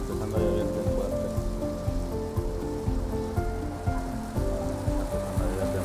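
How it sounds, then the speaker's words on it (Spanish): Heavy rain pours steadily at an outdoor bus stop in Arlington, Virginia, a dense, continuous patter on surfaces with passing traffic rumbling underneath. "Está empezando a llover bien fuerte"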